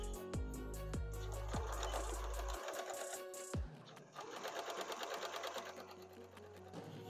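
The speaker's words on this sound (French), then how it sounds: "je vais venir coudre" A sewing machine stitching a fabric strip for a bicycle bag, short whirring bursts with knocks as the needle starts and stops, then a longer steady rhythmic run, close and clear.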